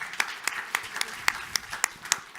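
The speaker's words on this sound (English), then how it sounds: "Let me thank you very much to the panelists, with big applause to all speakers" Applause for the panelists at a regional clusters conference, sparse and fairly faint, with separate claps landing irregularly rather than merging into a dense roar.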